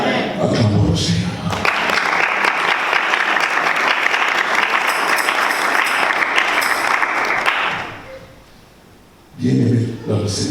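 A church congregation applauds for about six seconds in a dense, steady wave of clapping, with speech just before and after it.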